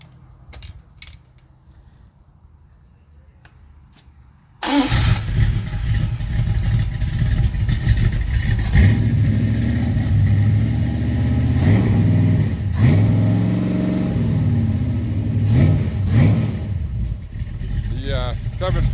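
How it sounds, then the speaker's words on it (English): A rebuilt 360 V8 with a Summit cam, 596 heads, 9.25:1 compression and a slightly rich 750 carburetor cranks and fires after a quiet lead-in, then runs loud and close with repeated revs rising and falling. "I broke the cam in last night, and I thought we'd just start her up here for Johnny, and you can see how it sounds."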